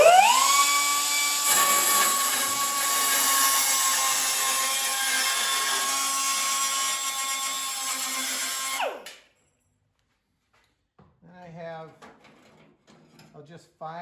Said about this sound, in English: Got my die grinder with abrasive cutoff wheel. I'll cut that before I weld it down.